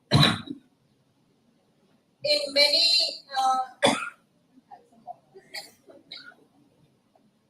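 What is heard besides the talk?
cough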